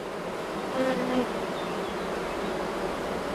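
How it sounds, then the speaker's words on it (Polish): A steady drone of honeybees buzzing fills the air, a dense continuous hum of many insects close by with no voices. "no dużo pszczół"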